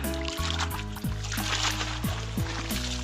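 Water splashing and pouring as a freshly caught eel is rinsed by hand, short close sloshes over a steady low hum in the background.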